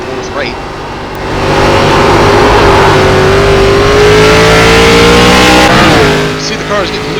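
Race car engines in the iRacing simulation of the ARCA Menards Series at Tsukuba Circuit rev hard and climb steadily in pitch, loud and sustained for several seconds before a brief dip and a renewed surge, with commentary voices underneath.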